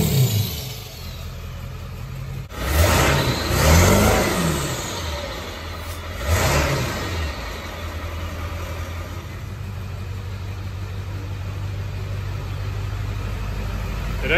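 A large 7.3 diesel truck engine fitted with a muffler idles steadily, then revs up twice in short bursts before settling back to a low, rumbling idle.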